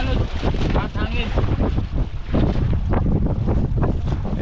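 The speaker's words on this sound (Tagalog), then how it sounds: "Kasi malakas yung alon. At hangin." Strong wind at sea buffets the microphone with a roaring rush while waves slosh and churn close by, loud and constant.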